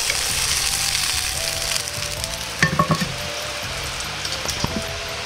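Shrimp searing in a frying pan give a steady close crackling sizzle, with a few sharper pops and clatters partway through as the pieces are handled, and no one speaks.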